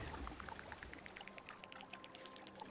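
Water added in the Terra Nil video game makes a soft, quiet stream of rapid bubbly droplet blips over a steady watery wash, with no talking.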